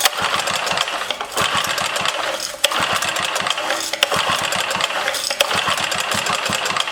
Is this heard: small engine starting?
yes